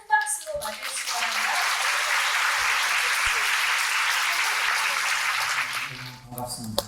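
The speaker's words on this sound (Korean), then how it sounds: "여러분 큰 박수로 맞이해주시기" An audience at a Korean lecture on the scholar spirit applauds to welcome a Sungkyunkwan University professor, a sustained loud wave of clapping lasting several seconds, with a host's voice briefly at the start and end.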